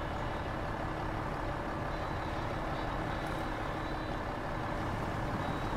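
A monster Burban truck in the SnowRunner video game spins its wheels in deep mud, a loud continuous engine roar and churning drone that holds steady throughout with no talking.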